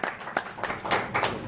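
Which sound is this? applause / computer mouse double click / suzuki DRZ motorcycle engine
applause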